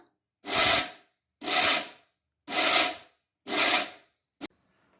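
A mixer grinder grinding peanuts for chutney runs in four short, even bursts of harsh whirring, each about half a second, close and loud, followed by a brief click.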